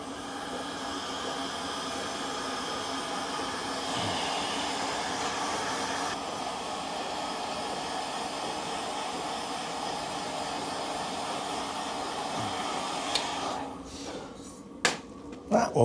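A hot air tool blows steadily to heat a part in a workshop shed, a continuous close rushing hiss that holds for most of the stretch before cutting off, followed by a few sharp knocks at the end.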